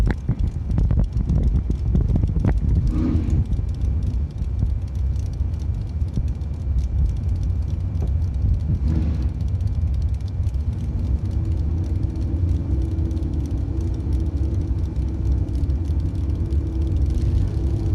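Drag strip run with a 1972 Chevrolet Vega in the left lane and the Boss Lady Camaro in the right, giving a steady loud engine rumble with wind buffeting throughout and a brief surge near the start.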